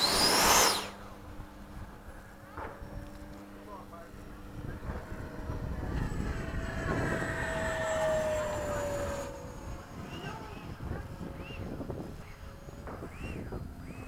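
Freewing 80mm F-5 electric ducted-fan RC jet making a fast pass at sunset, a rising then fading whooshing whine that swells over several seconds and drifts away, with faint outdoor background noise.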